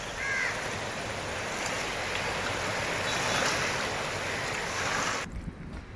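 Floodwater of the Kharkai river in Jamshedpur rushes steadily after continuous rain, a broad, even roar that holds for several seconds before dropping away abruptly. A crow caws faintly near the start.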